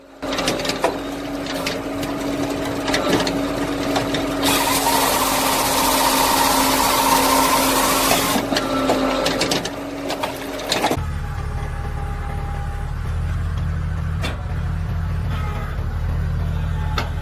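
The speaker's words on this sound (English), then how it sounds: "the Growy GSW 17K log splitter works steadily, without fuss" A Growy GSW 17K log splitter runs in a wood yard, its engine giving a steady mechanical drone with a louder hissing surge partway through, then settling into a lower rumble.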